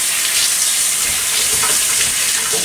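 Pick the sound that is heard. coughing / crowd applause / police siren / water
water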